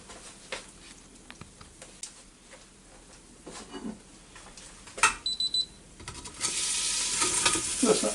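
A pork chop fries in a pan with a steady sizzle that swells loud and bright in the last couple of seconds, after a stretch of quieter clinks and stirring sounds.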